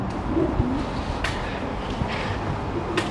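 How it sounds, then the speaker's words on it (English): A pigeon coos beside the Peak Forest Canal in a few soft low murmured calls over outdoor background noise, with occasional faint clicks and rustles and no speech. "pigeon there just coming out"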